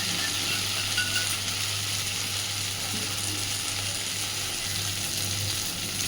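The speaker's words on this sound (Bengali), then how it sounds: "সুন্দরভাবে সব কিছুকে মিশিয়ে আরও মিনিট দুয়েক এইভাবেই নাড়াচাড়া করে ভাজতে থাকবে" Mashed pumpkin with crushed fried dried red chillies sizzling in a pan while being stirred, a steady close bright frying hiss with a low hum underneath and no talking.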